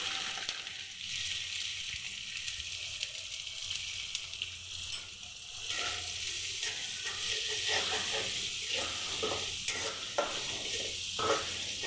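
Steady sizzling and hissing from a hot pan of onions and dried fish frying, with occasional stirring scrapes and clicks; no voices.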